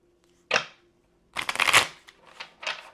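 A deck of cards being shuffled in two bursts: a short crisp riffle, a pause, then a longer run of riffling and flicking, close and fairly loud with no talking.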